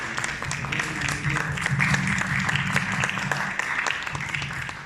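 An audience at a book presentation in San Miguel de Allende gives a sustained round of applause, the even clatter of many hands continuing for about five seconds with a low murmur beneath it.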